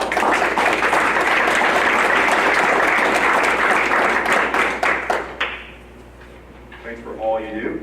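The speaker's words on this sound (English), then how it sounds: "And again, I'd like to round of applause." An audience at a public meeting gives a round of applause, thick steady clapping for about five seconds that tapers off, then a voice speaks in the quieter room.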